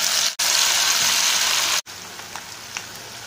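Marinated chicken dropped into hot coconut oil, a loud close sizzle and crackle that runs steadily, briefly cuts out, then continues softer with small pops.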